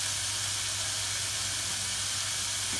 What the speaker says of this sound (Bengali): বিনস আর গাজরও আমি একটু ফ্রাই করে নেব।